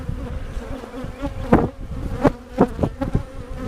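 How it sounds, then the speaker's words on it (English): Honeybees buzzing around open, full hive boxes during an inspection, a close, steady hum with louder passes as individual bees fly near. "There's some solid bees right here."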